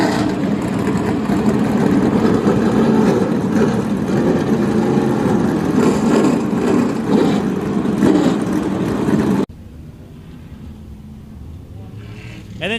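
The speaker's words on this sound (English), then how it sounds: "Start your engine." Modified race car engines started at a speedway for a classic weekend feature, a loud, rough, layered roar of several idling and revving engines that cuts off abruptly near the end, leaving faint background sound.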